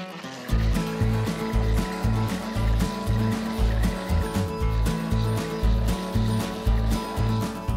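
A string trimmer fitted with a brush cutter blade runs loud and close while cutting grass, its engine throbbing in a rapid pulsing rhythm without a break.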